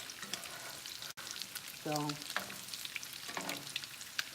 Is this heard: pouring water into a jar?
no